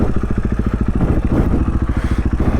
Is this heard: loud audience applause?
no